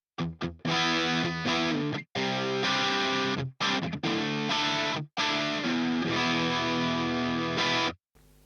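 Electric guitar played through an MXR Distortion+ pedal, loud sustained chords and riffs with brief gaps between phrases, no talking.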